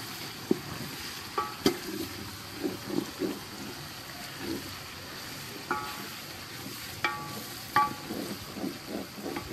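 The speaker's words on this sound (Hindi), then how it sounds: "इसको हम अच्छी तरह भूनेंगे इस मसाले को" Whole coriander seeds and cloves roasting in a pan, a faint steady sizzle broken by soft scraping stirs and a few sharp clicks of spoon against metal.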